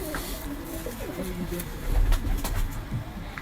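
A large-winged pigeon coos in low, soft bursts near someone speaking, with faint background bird calls and ambient noise.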